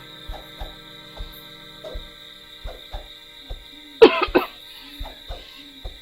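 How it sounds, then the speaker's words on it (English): One person coughs repeatedly, short dry coughs spaced through the clip with a louder burst of coughing midway, against a faint steady electronic hum indoors. "the more I talk, the more I want to cough"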